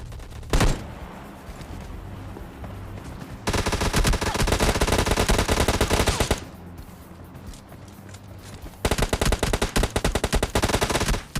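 Gunfire in a shooter video game, with a single early shot followed by two long, loud stretches of rapid automatic fire separated by quieter game ambience.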